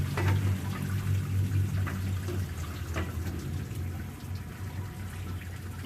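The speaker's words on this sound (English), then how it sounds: "Time filling her up with distilled water." Distilled water poured into the radiator of a classic car, a continuous trickling and gurgling fill heard up close over a low steady hum, with no talking.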